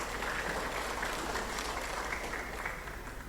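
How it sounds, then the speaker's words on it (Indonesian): An audience at an Indonesian Islamic institute ceremony presenting a graduate program license applauds an honored guest, an even, moderately distant clapping that stays steady and tapers slightly at the end. "Tepuk tangan untuk beliau."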